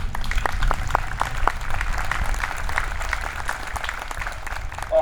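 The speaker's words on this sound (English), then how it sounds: "Let's give him a round of applause." Crowd at outdoor Memorial Day services applauding a local man, a steady wash of clapping from many people with a few sharper claps standing out, continuing evenly throughout.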